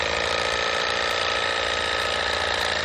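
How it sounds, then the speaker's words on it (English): A Sawzall reciprocating saw cuts steadily through a thick banana basjoo stem in a garden, a dense, continuous buzzing rasp of the blade running close and loud without pause. "gonna keep all hands and feet out of the way of the Sawzall"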